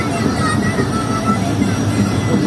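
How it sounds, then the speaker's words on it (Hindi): Shah Latif Express on its inaugural Karachi–Mirpurkhas run pulls into Tando railway station, a loud, steady rumble of rolling wheels and carriages with faint voices in the background. "ठीक 11:30 बजे हमारी ट्रेन पहुंच रही है टंडो वाला यार रेलवे स्टेशन पर"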